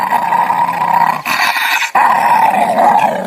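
Dog growling as a sound effect in a horror story, a loud, close, continuous rumbling snarl broken by two brief pauses.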